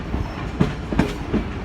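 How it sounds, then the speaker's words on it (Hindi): The Millat Express rolls into Jinnah Nagar railway station with rumbling wheels and rhythmic clickety-clack beats from rail joints, loud and close. "ठीक 2:55 पर हमारी ट्रेन अराइवल बना रही है जनाब नगर रेलवे स्टेशन पर।"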